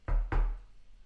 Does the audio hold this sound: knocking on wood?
yes